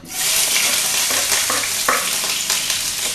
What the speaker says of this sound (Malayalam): എണ്ണ ചൂടായി കഴിഞ്ഞ് ആദ്യം ഇഞ്ചി,